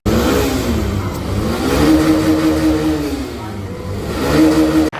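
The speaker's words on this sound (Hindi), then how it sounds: "एग्जॉस्ट सुनाता हूँ पहले मैं आपको कि TVS रेडर से एग्जॉस्ट अच्छा है या नहीं" A Hero Xtreme 125R 125cc motorcycle's exhaust revs up and down close by, its engine note rising and falling in several sweeps before cutting off abruptly near the end.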